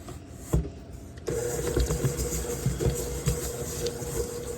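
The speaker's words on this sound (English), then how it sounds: "we're going to beat all this together until it's nice and smooth" An electric mixer beats sugar, brown sugar, eggs and vanilla, switching on with a sudden steady whirring hum after a brief quiet thump, then running evenly close by.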